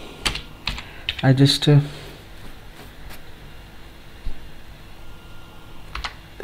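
Typing on a computer keyboard with scattered clicks and short bursts of keystrokes, while someone briefly speaks.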